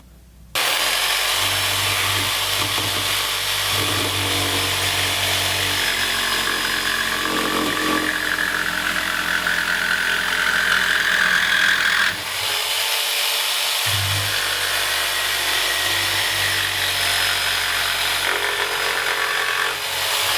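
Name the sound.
jigsaw cutting birdhouse board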